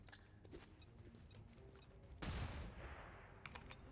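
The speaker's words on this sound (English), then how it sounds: "Just a flashbang for good measure." A flashbang grenade in the XCOM 2 video game, a sudden loud burst with a dense noisy wash that fades over a second, preceded by scattered clicks and small game sounds.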